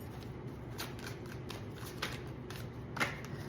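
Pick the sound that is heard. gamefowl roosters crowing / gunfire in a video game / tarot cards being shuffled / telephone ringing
tarot cards being shuffled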